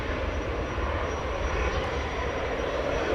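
A KLM Embraer E190 jet rolls for takeoff at Amsterdam Schiphol after an earlier aborted attempt, its engines producing a constant, dense roar at moderate level with no speech.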